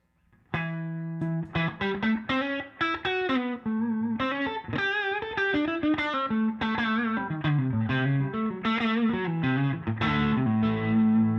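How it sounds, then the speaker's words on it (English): Overdriven electric guitar riffing through an amp's overdrive channel, thick and distorted, with continuous chugging notes and sustained chords, loud and close, no talking. "And then we got the overdrive channel."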